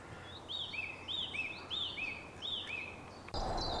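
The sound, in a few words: bird song in a wood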